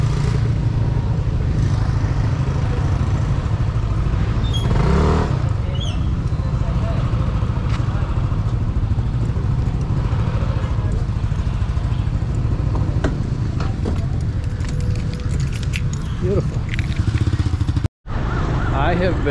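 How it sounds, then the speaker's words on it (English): Engines rumble and idle steadily from a large crowd of motorcycles in a parking lot, with a dense mid-level drone throughout and a voice talking over it. "There's hundreds of motorcycles there."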